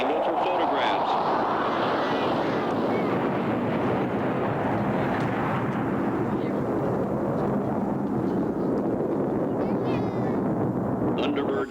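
Loud roar of USAF Thunderbirds F-16 jets passing in tight diamond formation at an air show, a broad rumbling sweep that swells and slowly fades over several seconds, with wind noise and crowd chatter underneath.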